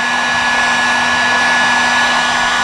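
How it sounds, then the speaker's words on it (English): A heat gun blows steadily at close range while warming the aluminum rear wheel hub of a Suzuki DR650 around the wheel bearing, giving a loud, constant whooshing hum with a fixed tonal whine and no breaks. "you can take a heat gun and run it around, or an air dryer"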